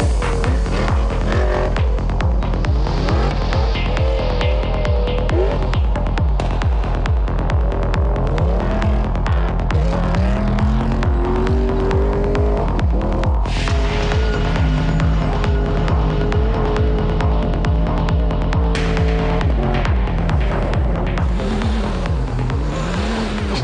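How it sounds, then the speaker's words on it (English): A powerful V8 Ford rally car engine roars and throbs continuously, revving up and down as the car charges over desert dunes in Abu Dhabi, loud and close throughout. "The V8 Ford produced an impressive sight and sound over the dunes."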